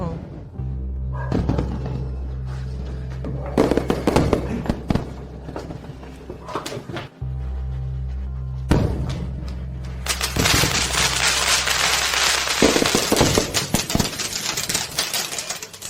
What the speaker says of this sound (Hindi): स्टेला, वे कहते हैं कि अगर आप आतिशबाजी के नीचे कोई इच्छा मांगते हैं तो वह सच हो जाती है।